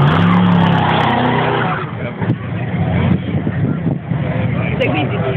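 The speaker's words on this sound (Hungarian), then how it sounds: "Közben jönnek itt az autók decibel mérésre, pörgésre, forgásra." Cars at a car meet spinning their tyres for decibel and burnout runs, with loud engine roar and continuous screeching tyre squeal close by. Crowd voices mix in.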